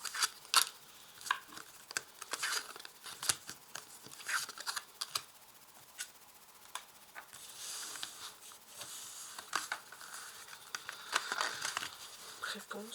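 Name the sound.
cutting and drawing tarot cards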